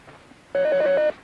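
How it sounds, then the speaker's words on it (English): A telephone rings once, a single loud, steady electronic bell tone lasting about half a second after a brief quiet pause. "Phone."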